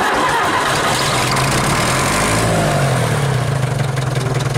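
A 1953 Nuffield DM4 tractor engine cranks and catches, a rough low rumble building into a steady chugging idle close by, loud and continuous with no talk.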